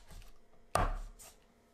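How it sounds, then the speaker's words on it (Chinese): A single sharp knife chop through green onion on a cutting board, close and crisp, with a short ringing decay and no further cuts. "最后呢我们还要切一些葱段备用"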